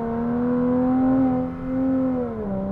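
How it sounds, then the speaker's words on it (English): Porsche Cayman 987 S with a newly fitted loud exhaust, valves open, accelerating hard; the engine note rises smoothly, dips briefly at a shift, then climbs again, close and loud. "first acceleration with the new exhaust"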